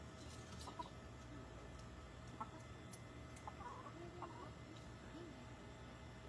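Soft, intermittent clucks from a chicken in a poultry farm over a steady background hum, with a few brief sharper calls scattered throughout.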